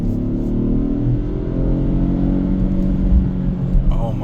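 A 2026 Toyota GR Corolla's turbocharged engine pulls under acceleration, a continuous low rumbling drone from inside the cabin with light road noise and a couple of brief bumps near the end.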